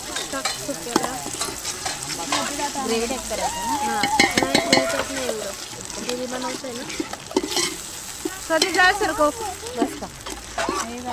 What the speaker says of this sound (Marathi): इथे रश्श्याला एकदम सुंदर अशी उकळी आलेली आहे